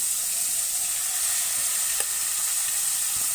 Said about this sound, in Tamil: போட்டு நல்லா வதக்கிக்குவோம்.